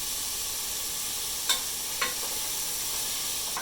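Salted beans sizzling in a pan with a bay leaf, a constant loud hiss broken by two or three sharp utensil clicks against the pan.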